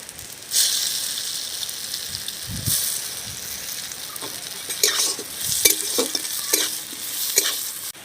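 Chopped green mango stirred and fried in a pan for a rainy-day dal, a steady close sizzle broken by scraping stirs of the spatula, with no talking.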